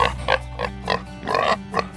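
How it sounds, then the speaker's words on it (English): A handful of short, throaty pig grunts sound in quick succession, close and fairly loud, with no talking. "Can we say night-night to the pigs?"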